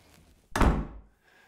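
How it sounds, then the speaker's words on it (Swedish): A door slams shut as a sound effect: one heavy, sharp thunk after a quiet lead-in, decaying quickly back to near silence. "Men så vände han på klacken och smällde igen dörren efter sig."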